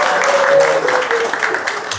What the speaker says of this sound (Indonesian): Tepuk tangan untuk Yogi dulu.